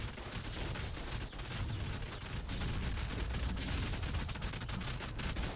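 Rapid, continuous gunfire during a player-versus-player battle in the video game ARK: Survival Evolved, dense repeated shots rattling throughout at a fairly distant, moderate level.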